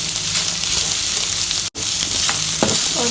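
Corn and rice are stirred together in a frying pan, with a loud, continuous sizzle and scraping, close up. A brief dropout breaks it halfway, and a few utensil knocks follow near the end.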